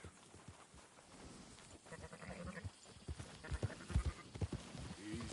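Sheep bleat among a flock being herded in Red Dead Redemption 2, with several overlapping calls and hoofbeats clopping underneath, growing louder toward the end.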